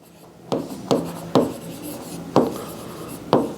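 Handwriting during a class lesson: five sharp, separate strokes of pen or chalk on a writing surface, close and fairly loud, with short pauses between them.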